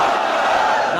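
A large gathering at a religious sermon roars a unison slogan response, one loud sustained burst of massed voices filling the whole moment.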